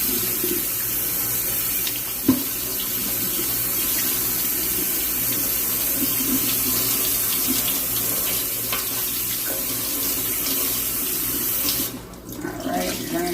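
Kitchen tap runs steadily into a sink, a loud, continuous close-up gush with a small clunk early on, then the flow cuts off abruptly near the end.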